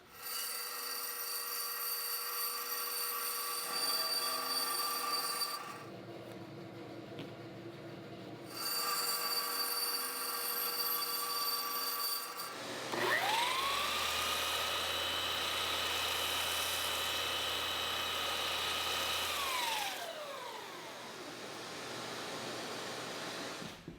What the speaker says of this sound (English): I'll make just a little freehand curve, and I'll cut this on the bandsaw